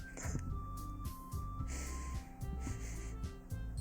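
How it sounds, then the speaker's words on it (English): A streamer's heavy breathing and snorting sit close to the microphone in repeated bursts roughly every half second, steady throughout with no talking. "y'all can hear me breathing"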